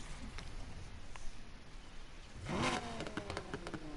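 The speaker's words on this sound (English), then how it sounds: "Now for the exhaust sound. Time to hear this V10." A V10 sports car in Need For Speed Heat revs its exhaust, a faint steady engine drone swelling into a brief rising rev midway, then settling back with a lingering whine.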